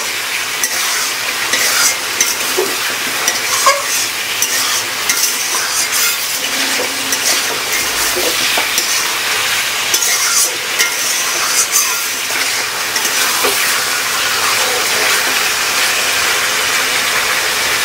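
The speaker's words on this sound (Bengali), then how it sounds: "এবার একটু ভালো করে নাড়িয়ে চাড়িয়ে নেবে।" Chicken pieces with dried red chillies frying in pure ghani-pressed mustard oil for spicy desi chicken kosha, stirred steadily with a spoon: a constant loud sizzle with repeated scraping and clinks against the pan, no talking.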